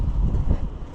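Wind gusts outdoors on a windy day, a brief, loud, rumbling buffet against the microphone.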